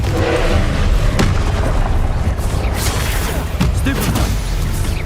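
Confringo fire spell explosions in Hogwarts Legacy combat, heard as repeated booming blasts and bursts layered over dense battle noise, close and loud throughout.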